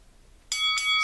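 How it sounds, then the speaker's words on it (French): A boxing card game phone app rings a bright electronic bell, two or three quick clear dings starting suddenly after near silence, close and alone. "La cloche est sonnée, le combat commence."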